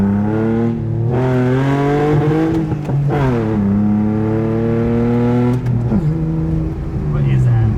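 A BMW E30 fitted with an M52 inline-six pulls hard at full throttle, its engine note climbing in pitch through repeated upshift dips. The loud, close drone runs continuously for several seconds.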